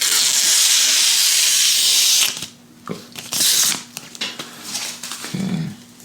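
Polycarbonate screen protector film being peeled off a Poetic Revolution case faceplate for a Moto G Pure, a steady close crackling hiss for two seconds, then short rasping bursts of peeling.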